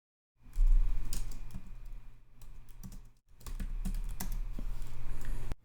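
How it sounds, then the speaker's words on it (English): Keys clatter in steady bursts on a computer keyboard while a personal portfolio website is being set up, close and clear, with a brief pause midway before the typing resumes. "and then I can just type in"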